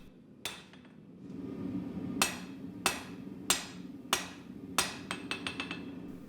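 A hammer strikes a katana blade while the spine-side bevel is forged: six loud, ringing blows spaced about half a second apart, then a quick run of lighter taps. There is no talk.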